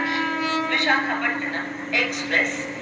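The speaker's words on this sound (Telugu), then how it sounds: "అదిగో వెనకాల ఇంకో ట్రైన్ వస్తుంది" Another train comes up behind as an express stands crossed at a station, its horn a steady sustained tone throughout, with station noise and people talking over it.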